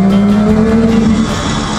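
A Kawasaki 500SS two-stroke motorcycle engine running inside a tunnel, a loud, continuous buzzing drone with a strong reverberant echo, close by and steady for under two seconds.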